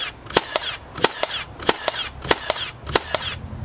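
Milwaukee M12 cordless brad nailer driving brad nails, sharp snapping shots in a steady rhythm of about eight in under four seconds, close and loud, with no talking.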